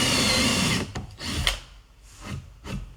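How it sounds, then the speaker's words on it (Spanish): A 9 mm bit drills through wood, whining steadily for a moment, then dropping into a few short bursts of drilling up close. "situamos la broca, en este caso es una broca de 9, que es más que suficiente, y perforamos"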